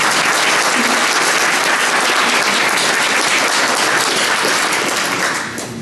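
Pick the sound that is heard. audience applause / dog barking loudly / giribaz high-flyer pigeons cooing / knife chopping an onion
audience applause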